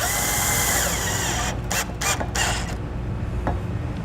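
A power tool drives the center nut while a Curt trailer hitch receiver is installed on a 2017 Ford Edge, a loud, sustained mechanical whir with short stuttering bursts near the end, close up and without speech.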